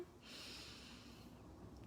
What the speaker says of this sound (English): So you take a deep breath in